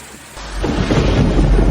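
Thunder rumbles in heavily over pouring rain, a loud close roll building after a brief quieter start, with the downpour hissing steadily throughout.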